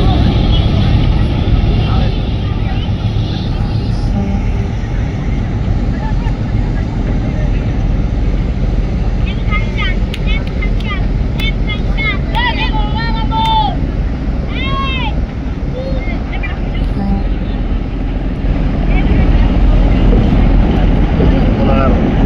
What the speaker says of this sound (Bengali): অতিরিক্ত গতি দিয়ে বরিশালের উদ্দেশ্যে রওনা দিয়েছে এম খান 7